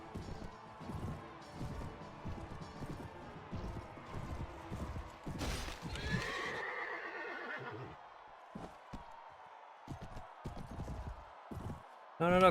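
A horse whinnies loudly and gallops with clip-clop hoofbeats during a Mount & Blade Warband battle, over a steady bed of clashing combat noise with a few crashing hits.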